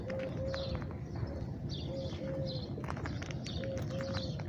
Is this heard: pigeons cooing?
yes